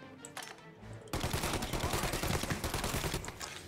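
Gunfire in the video game Mafia Definitive Edition, a quieter opening then a sudden sustained burst of rapid automatic shots, loud and dense, with no talk over it.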